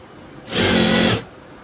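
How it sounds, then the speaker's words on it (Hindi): A sewing machine runs in one steady burst of about 0.7 seconds while stitching a kurta sleeve. The whirring rises quickly, holds loud and close, then stops. "अब मैं इसको लब की सिलाई लगाऊंगा"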